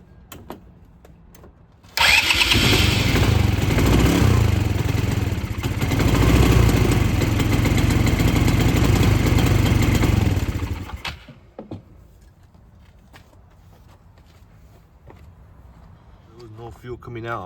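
A neglected 2010 Polaris Ranger RZR 170 engine cranks over with its fuel line disconnected from the carburetor, a loud steady whirring run of about nine seconds that cuts off abruptly, with someone talking before and after.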